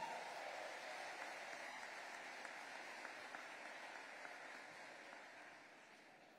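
A church congregation applauds during a sermon, a soft, distant wash of steady clapping that slowly fades toward the end.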